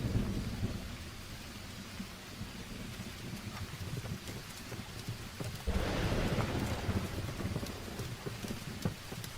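Steady rain pours with thunder rumbling, a dense wash of noise that swells into a louder roll of thunder midway, with low hoof-like thuds mixed in.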